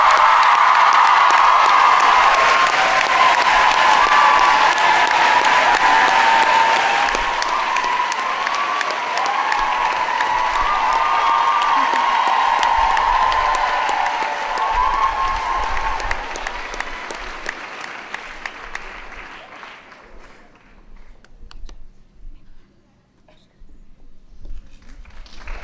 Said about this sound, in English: Please join me in giving our Miss Linden a round of applause.